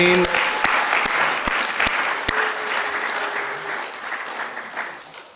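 Congregation applauding at a Friday night Shabbat service, a dense, steady wash of clapping that starts loud and gradually tapers over several seconds, with a few sharper claps standing out.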